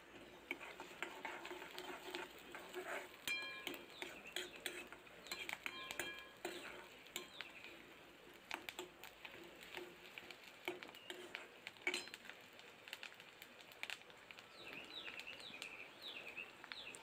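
Onions and curry leaves sautéing in a pan on low heat, a soft continuous sizzle with intermittent clicks and scrapes of stirring, fairly quiet and close, no talk.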